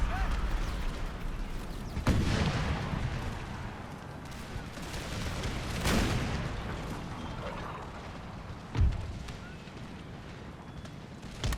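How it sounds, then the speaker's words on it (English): Cannon and artillery fire in an Empire 2 battle near Paris: several heavy booms spaced a few seconds apart over a dense, continuous roar of battle, with faint talk underneath. "There's a cannon coming up."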